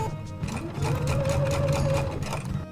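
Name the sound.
sewing machine stitching quilt blocks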